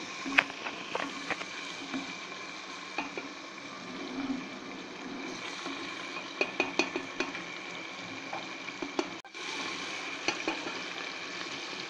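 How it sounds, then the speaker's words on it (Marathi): A turmeric mixture is sautéed in a pan on high gas, with a continuous frying sizzle and scattered clicks and scrapes of a spoon stirring, plus a brief dip before the sizzle resumes. "आता हे आपण व्यवस्थित परतून घेऊया। गॅस आपण फास्ट ठेवलेला आहे या ठिकाणी।"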